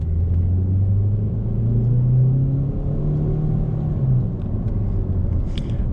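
A 2014 Ford Focus SE engine revs up and holds a rising drone, then eases back down into a loud, steady rumble heard close and alone.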